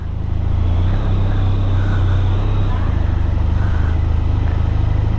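A car engine idles loudly and steadily up close, a continuous low rumble throughout, with voices faintly audible over it.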